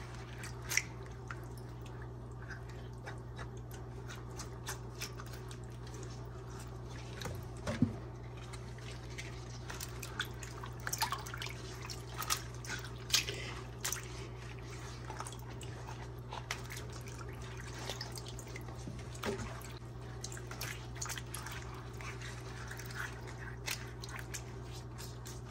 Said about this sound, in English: Just rub them. Yeah, the salt water and the vinegar, it helps cleans it.